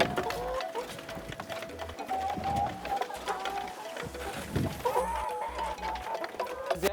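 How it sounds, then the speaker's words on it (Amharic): Chickens clucking in a rural village yard where about 25 laying hens are kept, their calls repeated and irregular at moderate distance amid outdoor ambience and other bird sounds, with no talking. "እዚህ አካባቢ የዶሮ ድምጽ ይሰማኛል።"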